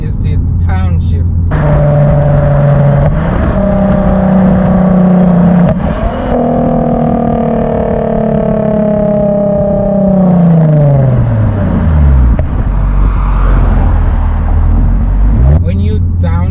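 Lexus IS350 with an Invidia catback exhaust revving and shifting, engine note rising and falling in long sweeps with a drop near the end, loud and close, with a voice talking over it.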